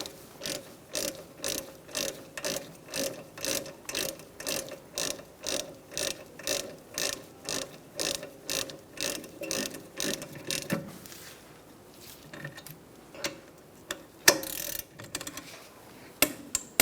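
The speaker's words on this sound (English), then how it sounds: "We're going to be torquing these to 21 foot-pounds." A torque wrench ratchets on the rear brake bolts of a 2012-2018 Ford Focus, giving a steady run of close, evenly spaced clicks for about ten seconds, then a few scattered clicks and knocks.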